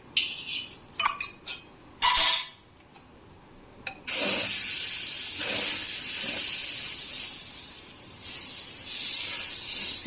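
A besan and suji chila sizzles and hisses on a hot pan, with a few clinks of utensils early on, then a steady loud frying hiss that swells and eases.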